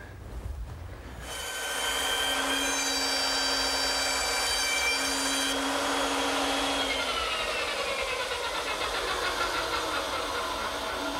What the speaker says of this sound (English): Now that the end cut and the cheek cuts are made